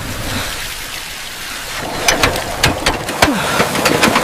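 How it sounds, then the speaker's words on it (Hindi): Water gushes from a repaired field pump on a farm: a steady, broadband rushing wash that grows louder partway through, with sharp splashing bursts and surges, and no voices. "3 दिन बाद पानी आया है।"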